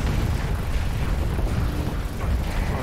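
Heavy cannon fire in a space combat game, with continuous loud booming, bursts and rumbling blasts that blend into a dense wall of explosions.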